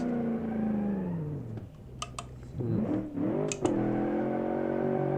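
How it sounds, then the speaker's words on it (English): Car from the 1980s, built in Automation, doing a burnout in BeamNG.drive: a loud, sustained engine drone sweeps down and back up in pitch, with brief sharp clicks partway through. "Oh, hell yeah, this can do burnout."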